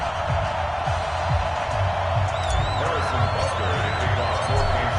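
Stadium crowd noise from an NFL video game broadcast at Arrowhead before a Chiefs–49ers kickoff, a steady loud roar with scattered whoops and whistles, continuous throughout without a break.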